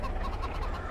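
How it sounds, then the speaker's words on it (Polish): A chicken clucks repeatedly nearby in a short, steady run of soft calls over faint outdoor background noise, with no talking. "O kurczak, uciekaj, uciekaj!"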